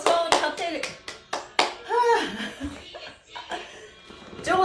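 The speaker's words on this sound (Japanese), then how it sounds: "その場で拍手" A stretching class audience claps in place in time, a run of sharp hand claps with laughter and a leader's voice talking over it, fairly close.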